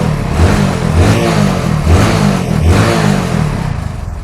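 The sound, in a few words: auto rickshaw engine revving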